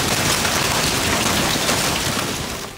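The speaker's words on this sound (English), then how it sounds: "Rain, hail, strong winds, and a possible tornado." Heavy rain pours steadily during a tornado-outbreak storm, a loud, dense, even wash of noise that fades slightly at the very end, with no voices.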